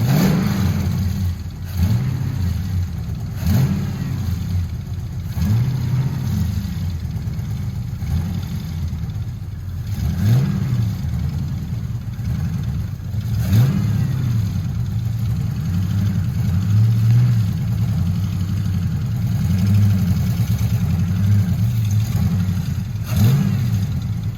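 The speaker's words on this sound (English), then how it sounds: "So we're gonna let the Trans Am warm up for a second." A Trans Am idles steadily while warming up, its low engine rumble rising in small repeated revs with nothing else heard.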